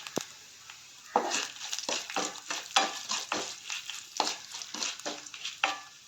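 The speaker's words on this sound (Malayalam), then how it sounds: "ഈ ഒരു സമയം നമുക്ക് വറ്റൽമുളക് ചേർത്ത് കൊടുക്കാം." Dried red chillies are stirred with roasted rice in a hot pan, giving close, rhythmic scraping sweeps over a dry crackling sizzle with no voices.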